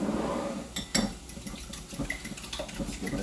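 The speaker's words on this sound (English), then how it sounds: "So I was going to whisk it, but I'll just stick with a fork." A fork beating a quiche mixture of eggs in a bowl, soft irregular clinks and liquid sloshing against the dish, fairly quiet and close.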